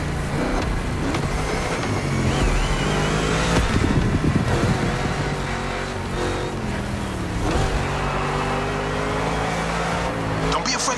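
Monster truck engine roaring during a race in The Crew Motorfest, a loud, continuous throaty drone with shifting revs and no pauses across the whole stretch.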